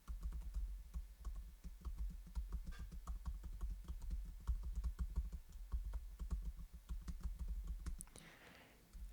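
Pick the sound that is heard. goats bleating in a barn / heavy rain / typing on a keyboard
typing on a keyboard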